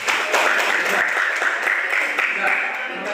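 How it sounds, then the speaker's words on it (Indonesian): An audience applauding, a dense burst of many hands clapping steadily for a few seconds in a room, with voices mixed in. "Boleh tepuk tangan dulu."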